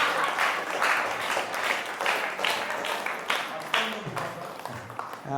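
A short burst of applause from a small audience of about 17 people, scattered and steady clapping under a voice that keeps talking.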